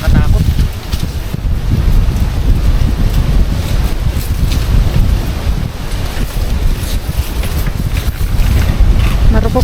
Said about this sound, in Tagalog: Hangin guys, nakakatakot.